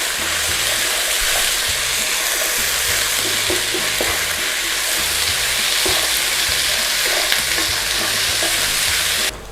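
Yellow, red and green peppers with onions stir-fried for kung pao chicken give a loud, steady sizzle that runs without a break, with light scraping of a stirring utensil on and off.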